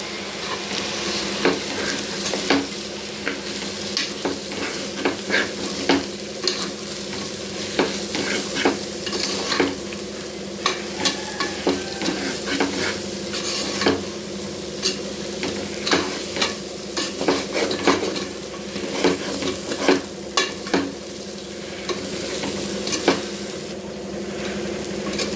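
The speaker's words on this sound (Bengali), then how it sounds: "এখন দিয়ে দেব পরিমাণ মতো লবণ, আর দিয়ে দেবো হলুদ। সুন্দর করে ভেজে নিতে হবে।" Chicken khichuri base fries with salt and turmeric in a pan, giving a steady sizzle with frequent scraping stirs and light clinks throughout. There is no talking.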